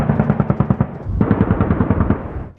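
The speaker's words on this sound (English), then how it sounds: "The Apache launched Hellfire missiles above Townsville, the fleet's new home." Apache military helicopter firing its weapons over Townsville: a loud, rapid burst of cannon-like fire in a fast steady rhythm, followed by a second continuous burst, with a heavy rumbling low end.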